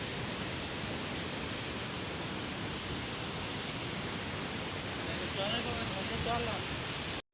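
Rushing water of the Gandak river at the India–Nepal border, swollen in the rainy season, roars as a loud, steady broadband wash for several seconds, with faint voices briefly near the end before it cuts off.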